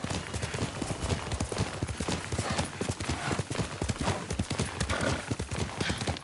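A horse in the video game Ghost of Tsushima clatters along with rapid, continuous hoofbeats and lets out a whinny, loud and close across the whole stretch.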